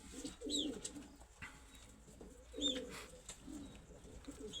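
Soft, low pigeon coos repeat in a few short phrases, moderately close, with faint higher chirps and light background noise between them.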